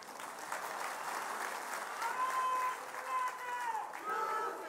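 Cheering and applause from a Shiv Sena political rally crowd in Amravati, steady and fairly distant, with whistles and shouts rising over the sustained clapping.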